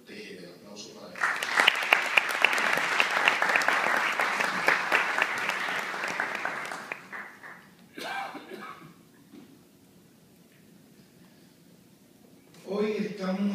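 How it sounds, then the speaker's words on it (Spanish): An audience in a university hall applauds for Dagoberto Tejeda, a strong burst of clapping lasting several seconds that then fades, followed by a brief cough and a few words from a speaker. "El aplauso para él"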